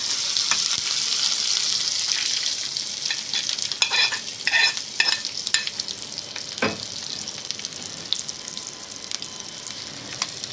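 A tempering for cabbage pachadi sizzles in hot oil, with a loud crackling hiss at first and sharp pops and spatters around the middle that settle into a quieter sizzle.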